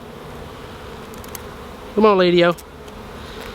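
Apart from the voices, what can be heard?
honeybees buzzing around a hive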